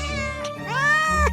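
A cat in the Minecraft video game meows twice in quick succession, loud, close and clear, with the second call rising and longer.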